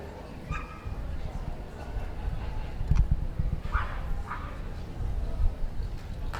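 Dogs in the hound group ring at a championship dog show, with a few short barks and yips rising out of a busy indoor crowd murmur while a commentator talks over the top.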